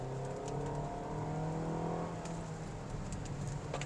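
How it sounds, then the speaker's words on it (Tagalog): Toyota Vios XLe sedan on a test drive, its engine revving in a steady, fairly quiet whir heard from inside the car, with no one talking. "Ganda ng tunog ng makina."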